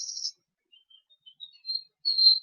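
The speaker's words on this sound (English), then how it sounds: "Isn't it a lovely sound to hear the birds outside singing?" Birds singing outside at dawn: sparse, high, thin chirps and short tweets, quiet and intermittent, with silent gaps between calls.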